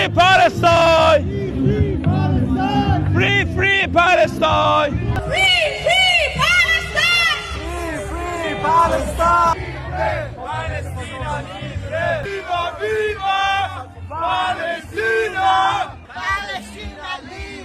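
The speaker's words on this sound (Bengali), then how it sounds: "ব্রাজিলেও ইসরায়েলের বিরুদ্ধে ফিলিস্তিনের সমর্থনে লোকজন রাস্তায় নেমেছে ফ্রি ফ্রি ফিলিস্তিন স্লোগান" A large street protest crowd in Brazil chants Free Palestine in support of Palestinians against Israel, loud rhythmic shouted slogans from many voices repeating in waves with cheering between.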